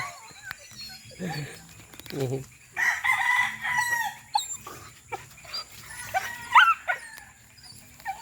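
Chickens cluck and a rooster crows outdoors, with a dog barking at times among the calls; the birds sound fairly close.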